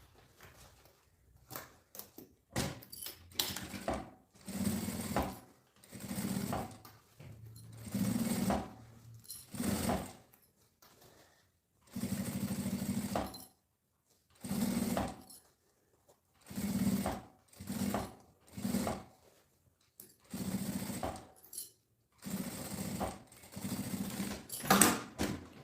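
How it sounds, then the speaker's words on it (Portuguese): A sewing machine runs a presser-foot seam all the way around a circular piece for a romance craft kit. It sounds in about a dozen close, loud bursts of rapid stitching, each a second or two long, with short quiet pauses between. "Uma costura com um pé de máquina em toda a volta."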